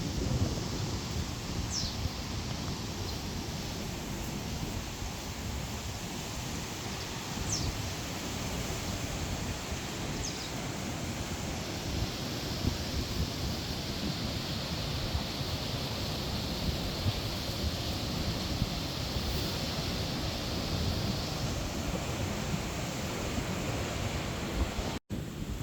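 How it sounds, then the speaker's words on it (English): Strong gusty wind of around 46 mph buffets the microphone over crashing giant ocean surf at a seaside lookout on Crete, a dense continuous roar of wind and breaking waves with no speech. "Giant waves. It's like 46 mile an hour gust winds today,"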